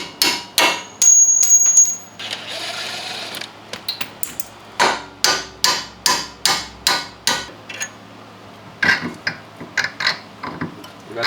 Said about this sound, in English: Use a better hammer than a rubber mallet.